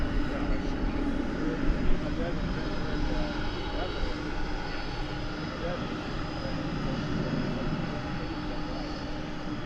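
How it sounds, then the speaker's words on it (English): Jet engines at DFW Airport, including a large MD-11 trijet, roar in a steady, loud, continuous rumble at moderate distance while people talk nearby. "I hear those engines revving up"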